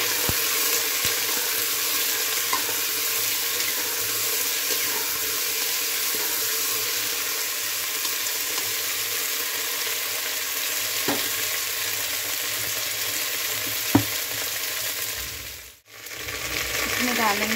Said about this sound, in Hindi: कद्दू को डाल देंगे। इसको हम अच्छे से चला देंगे।